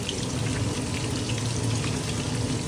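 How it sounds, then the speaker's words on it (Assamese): Fish sizzles steadily in a hot pan of oil in a home kitchen, a continuous close crackle and hiss with no pauses. "এতিয়া মাছ ফ্ৰাই কৰি আছোঁ"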